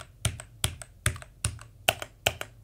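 Close typing on an Azio Tera 75 mechanical keyboard with brown switches gives about seven steady, moderately loud keystrokes, each a sharp clack with a softer second tap, with no talking.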